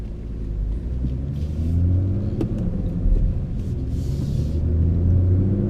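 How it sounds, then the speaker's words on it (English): A turbocharged BMW 340i with a six-speed manual gearbox, heard from inside the cabin with the windows shut, gives a steady, deep engine rumble that builds gradually as the car accelerates. "That turbo noise is just so addicting."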